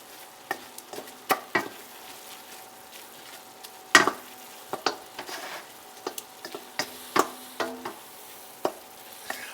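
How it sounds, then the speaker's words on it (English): Turkey chili meat with paprika being stirred in a pot, a run of crisp scraping and clacking strokes of a spoon against the metal at an uneven rhythm over a soft sizzle, close and alone. "we're going to give that a good stir up"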